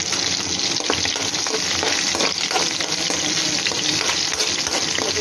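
Ginger frying in a hot pan for chicken curry, a steady close sizzle with faint stirring and scraping, no talking.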